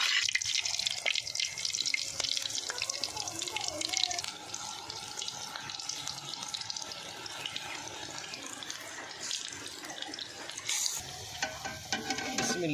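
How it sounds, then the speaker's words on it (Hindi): Pakoras frying in hot oil, a continuous crackling sizzle with bubbling and scattered clinks, close and moderately loud, with faint voices in the background. "तेल अभी गर्म हो जाता है तो अभी डालेंगे जी पकौड़े।"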